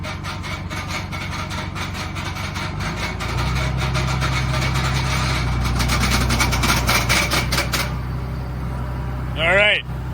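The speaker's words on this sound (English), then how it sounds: "I'm gonna go ahead and start the PTO real slow here." A tractor's power take-off engages slowly to drive a cattle feed mixer's beaters on a frigid Minnesota farm. A steady low engine drone deepens and strengthens partway through, joined by rhythmic mechanical clatter, with a brief rising squeal near the end.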